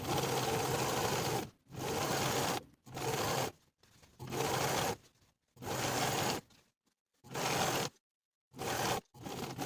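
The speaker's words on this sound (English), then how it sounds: "sew the facing to the seam allowance underneath with about 1/8 inch seam allowance" A sewing machine understitches an evening dress facing to the seam allowance in repeated bursts of steady whirring, each about a second long and separated by short pauses.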